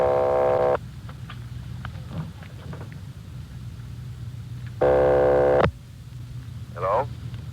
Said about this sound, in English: They're ringing the number